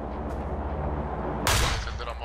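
A single gunshot in the battle-royale video game PUBG: one sudden, sharp crack partway through, over a steady, murky background hum.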